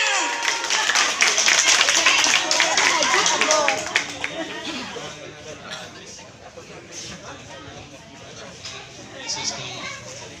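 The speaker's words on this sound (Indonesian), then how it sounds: "Tepuk tangannya" An audience at a 2021 Arbitano leader meeting in Pekanbaru claps hands loudly and densely for about four seconds, then the clapping thins and fades beneath crowd chatter and voices.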